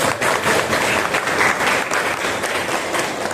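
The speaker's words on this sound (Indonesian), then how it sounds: "Masya Allah, tepuk tangan dulu" Steady applause from a group of schoolchildren clapping together in a classroom, dense and continuous throughout, fairly close and loud.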